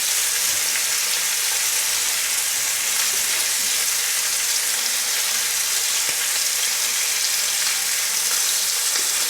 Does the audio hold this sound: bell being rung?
no